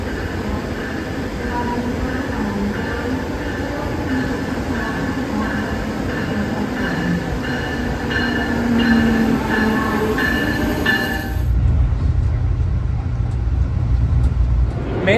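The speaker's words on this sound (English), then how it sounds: "I think my train is coming." A train pulls into a Philadelphia transit station with a steady rumble, faint squealing wheel tones and clattering rail noise, giving way near the end to a deeper, muffled low drone.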